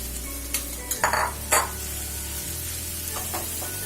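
Potatoes being roasted with dabeli masala in a pan over a slow flame, with a few scraping stirs and soft sizzling bursts over a low steady hum.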